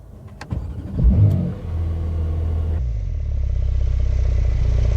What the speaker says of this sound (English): Here we are then, the first few miles in this new Porsche 911 992